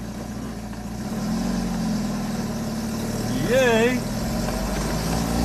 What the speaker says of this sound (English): we're in the Jeep, got it running, the clutch is working